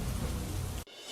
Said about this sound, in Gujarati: 2 દિવસના વિરામ બાદ ધીમી ધારે જામ્યો વરસાદ